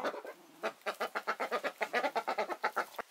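Ducks feeding outdoors, giving a rapid series of loud, close quacks and clucking calls in a steady rhythm of about a dozen bursts, with no talk.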